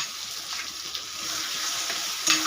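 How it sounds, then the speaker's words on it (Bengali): Taro pulp sautéing in a pan with ginger, garlic and green chilli paste makes a loud, steady sizzling hiss close up, with a brief clink near the end. "এবার এর মধ্যে দিয়ে দেব মুখি কচুর ভিতরে"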